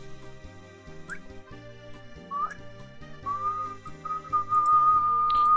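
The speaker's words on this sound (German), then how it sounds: "Bitte nicht pfeifen." A person whistles a wandering, tuneful melody over a steady electronic music bed, clear and close, with notes sliding between pitches and no talking.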